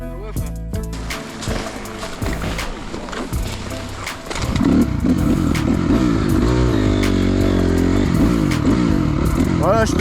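A Honda CRF enduro motorcycle engine runs loud and close on a dirt trail, revving and then holding a steady heavy drone, with riders talking over it.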